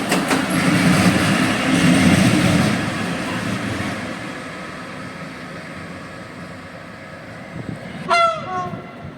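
A diesel locomotive rumbles past a railway station with a loud, broad roar that fades as it moves away, followed by a brief horn-like tone near the end.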